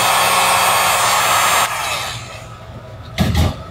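Heat gun roaring loudly and steadily on a glued carbon fiber headphone stand, its blowing rush dropping off partway through, then a brief knock or handling thump before it fades.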